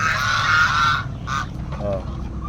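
Geese honking on a rural farm in the Philippines, loud and close: a long harsh honk, then a shorter one and a few softer calls, with a faint voice in the background.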